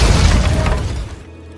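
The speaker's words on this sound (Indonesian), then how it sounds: "Ledakan itu kini hanya tinggal menyisakan Bog dan dua pengawalnya." A loud, deep dynamite explosion in an action film roars with rumbling bass and crackling debris, then tails off abruptly.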